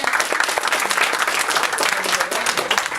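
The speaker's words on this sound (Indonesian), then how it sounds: "tepuk tangan dulu buat tempatnya" Comedy show audience applauding, a loud, close, dense wave of clapping sustained without a break, with faint voices underneath.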